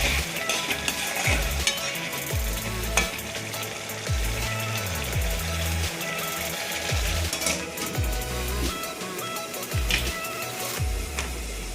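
Prawn and jackfruit seed curry stirred in a pan: repeated scraping strokes of a spoon against the metal every second or so over a continuous frying sizzle, close and clear, with no talking.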